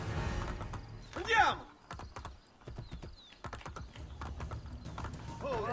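Horse hooves clip-clopping in Assassin's Creed Brotherhood, a quiet rhythmic trot under someone speaking Czech, with a brief louder burst of game sound.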